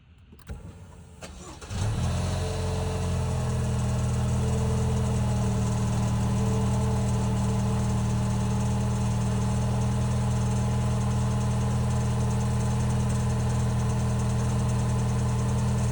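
Lexus NX 350 cold-starting, with a brief crank followed by a steady close idle hum that holds level throughout, an engine said to tick, no talk.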